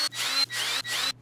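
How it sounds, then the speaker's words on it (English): Three short bursts of a power drill boring mounting holes into a wooden sofa table, each whining for about a third of a second with brief pauses between. "Now I can drill some mounting holes between the lines."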